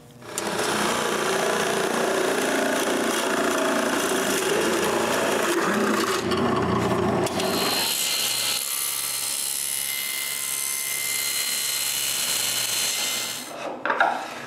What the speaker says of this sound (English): drill and cut for a slot